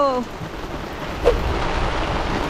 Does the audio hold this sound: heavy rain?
yes